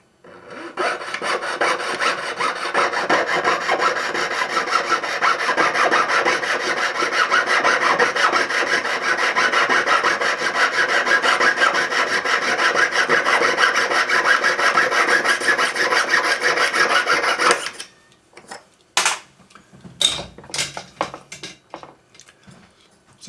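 A fine saw cuts through a twisted metal bangle with a rapid, steady rasping stroke for about eighteen seconds, then stops, followed by scattered light handling clicks and taps; no speech.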